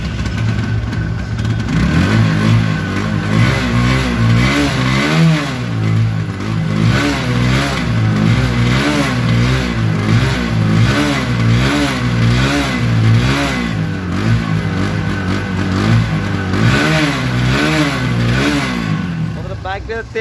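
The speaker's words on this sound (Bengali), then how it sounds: "এখন দেখা হচ্ছে বাইকের সাউন্ড কোয়ালিটি এবং পারফরমেন্স।" A used blue TVS Apache RTR 160 motorcycle with about 5,552 km on it is revved close up, its loud engine note repeatedly climbing and falling in steady waves for about twenty seconds.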